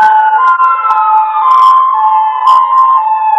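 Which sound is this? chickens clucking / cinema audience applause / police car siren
police car siren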